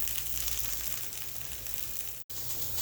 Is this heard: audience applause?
no